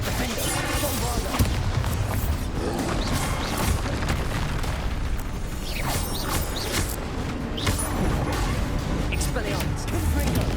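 Spell explosions in the video game Hogwarts Legacy, a dense run of booming blasts, crashes and impacts overlapping continuously for ten seconds, loud and busy, with a voice speaking through the clamor.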